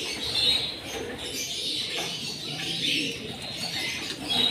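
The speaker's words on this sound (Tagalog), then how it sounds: "Ayan na, ang mga ibon na panlaban namin sa South." Racing pigeons released from their loft after a toss from Candelaria, Quezon, with soft cooing and bird calls over steady outdoor background noise, a few faint wing flutters but no clear burst of flapping.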